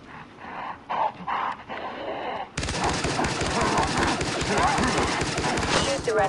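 Gunfire from the video game Far Cry 3 Blood Dragon, dense bursts of shots erupting midway and continuing as a loud, sustained barrage, with voices talking over the earlier quieter part.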